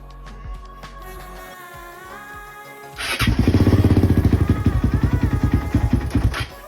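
A broken quad ATV engine cranks and catches at about three seconds, then runs loud and close with a rapid, pulsing idle, after a stretch of quieter shop sounds.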